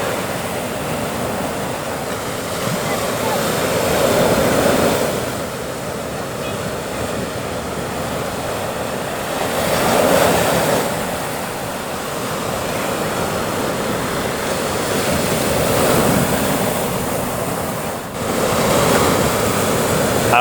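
Ocean waves roll and crash continuously on Hawaii's North Shore, a broad roaring wash that swells and recedes every few seconds, steady and immersive.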